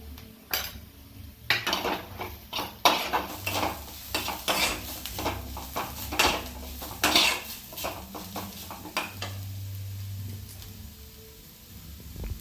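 Spices with turmeric and chili powder sizzle in a pan for masala dosa filling while a metal spoon scrapes and clinks against it in repeated, busy strokes throughout.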